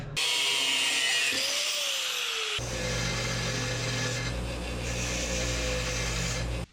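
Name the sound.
cutting a piece off a 2-inch wide metal strap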